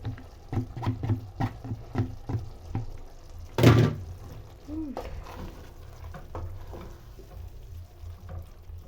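Spaghetti being stirred into a minced beef Bolognese sauce in a pan, with soft wet scraping and a run of light utensil knocks, one louder clatter partway through, then quieter mixing.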